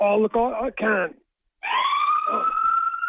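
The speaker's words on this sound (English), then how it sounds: "I think that's the ambulance going to get some of the players from out the front of the pub" An ambulance siren passes outside a pub, a steady rising wail heard behind a brief burst of close talk and then continuing alone after a short silence.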